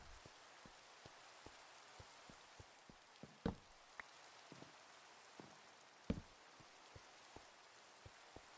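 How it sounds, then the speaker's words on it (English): Steady rain falls in a video game, a soft continuous hiss dotted with small drips and a couple of sharper knocks, with no talking. "This is at least the 3rd time this stream it's rained."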